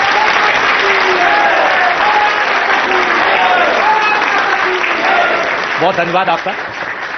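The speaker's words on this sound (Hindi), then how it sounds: "आप लोग ताली बजाकर बताएं कि आपको भरोसा है योगी जी के बारे में।" Studio audience applauding during a televised Hindi courtroom-style talk show, sustained loud clapping from a large crowd that fades toward the end as someone speaks over it.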